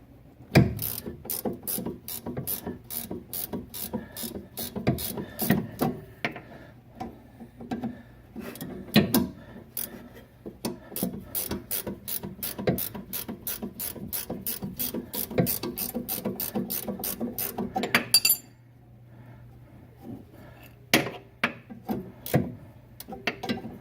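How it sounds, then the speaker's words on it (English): A socket ratchet works loose the nut on a sway bar end link of a BMW E46, giving long runs of quick, crisp clicking in bursts with short pauses between them, close up and alone. "we're just going to get our socket on that and see if we can get it removed here"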